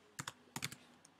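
Computer keyboard being typed on in two quick pairs of keystrokes and a faint final tap, close and dry with no voices over it.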